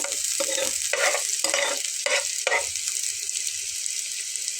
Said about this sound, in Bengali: শুধুমাত্র তেল দিয়ে কিন্তু ভেজে নিতে হবে।